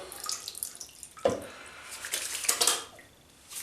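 Water from a bowl of bloomed shaving soap splashes and trickles into a basin in short bursts, close by, with a brief clatter and gentle pouring sounds.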